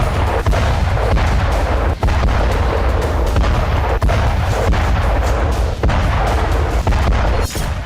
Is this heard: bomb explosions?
yes